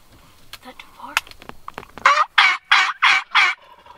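A wild turkey gobbler lets out a run of five loud gobbles in quick succession, close by, after some faint knocks and rustling during a 20-gauge turkey hunt.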